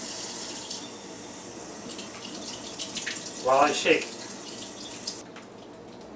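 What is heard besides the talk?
cold water running from kitchen sink tap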